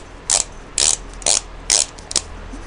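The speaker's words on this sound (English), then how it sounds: "always zero your torque wrench when you're done" A torque wrench being zeroed after work on a 1999 Harley Davidson Road King engine top end gives five loud, close ratcheting clicks, evenly spaced about half a second apart.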